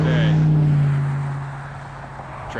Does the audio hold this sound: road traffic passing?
yes